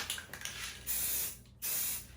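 Rust-Oleum spray paint from an aerosol can being sprayed onto a beat-up .22 Winchester rifle, two short bursts of close hissing spray separated by a brief pause, with faint clicks before them.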